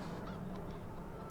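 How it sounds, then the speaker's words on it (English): Farm chickens in Farming Simulator 17 on the Frisian March map make a steady low clucking and honking murmur, a soft continuous background with a brief sharp sound at the very end. "we have the chickens on the farm."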